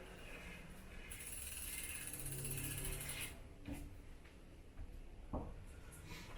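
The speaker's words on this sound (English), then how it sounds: "Give the wheel a quick spin to make sure the gears all work." A bicycle wheel spun by hand during a flat-tyre repair, its rear gears clicking through with a steady mechanical ratcheting that rises and then eases off, close and fairly quiet, with a few sharper ticks near the end.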